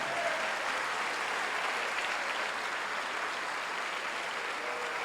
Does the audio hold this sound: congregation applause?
yes